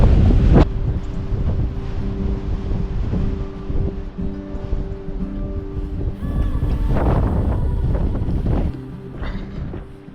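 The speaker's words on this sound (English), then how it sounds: "it's windy up there" Strong wind buffeting the microphone on an exposed coastal clifftop at Mwnt, roaring steadily and loudly throughout with gusty surges and a faint rumble underneath.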